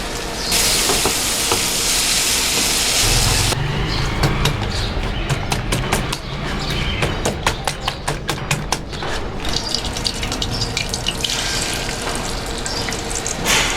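A vegetable bhaji fries in a pan as coriander leaves go in: a loud, continuous sizzling hiss, then a run of quick, sharp crackles and ticks before the frying settles back to a steady hiss.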